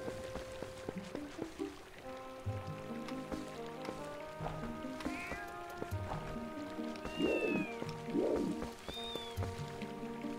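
A cat meows a few times in The Legend of Zelda: Twilight Princess game, short mewing cries rising over layered game music, moderately close, with no talk over them.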